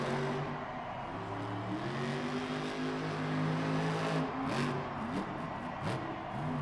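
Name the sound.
Earthshaker monster truck engine revving at full throttle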